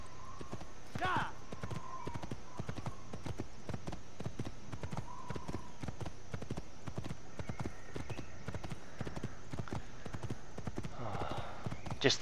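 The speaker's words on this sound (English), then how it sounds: "Jump onto our normal horse." A horse from Assassin's Creed gallops with a steady, rhythmic clip-clop of hooves throughout, joined by a brief whinny early on and faint snorts, with occasional voices in the background.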